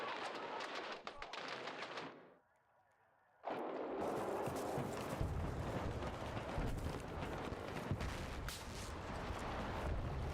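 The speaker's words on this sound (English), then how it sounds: "being sniped at already?" Gunfire from Battlefield 6 rings out in a dense, loud game soundscape, with sharp cracks and booms over continuous rumble, briefly dropping to near silence before resuming.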